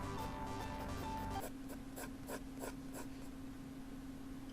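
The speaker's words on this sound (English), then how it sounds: "I'm going to start off with simple shapes, sketching where I want my characters to be." Pencil sketching simple shapes on paper while drawing a cartoon character: quiet, close scratching strokes, first a continuous rubbing stretch, then a run of short separate rhythmic swipes, over a steady faint hum.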